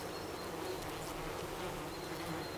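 A steady, dense buzz of many honeybees at a hive on a Tudor-style monastery farm in midsummer. The droning hum holds level and continuous throughout, with no voices.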